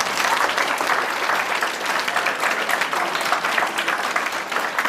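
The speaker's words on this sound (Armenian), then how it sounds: "Շնորհակալություն, ծափահարենք" Audience applause after a performance by a youth folk orchestra of national instruments at a village concert, a dense, steady clapping that fills the whole stretch at close range with no voices on top.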